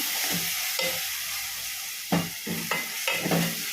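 Food sizzles steadily in a hot pan while a utensil stirs and scrapes a few times, close up, with no talking, while making seer fish (vanjaram) kurma.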